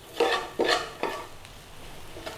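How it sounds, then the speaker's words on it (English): Spices blooming in a pan for a chicken tikka bhuna, with three distinct scraping stirs in steady rhythm over a soft continuous sizzle, close and clear. "All we're doing now is just blooming off the spices, cooking the spices"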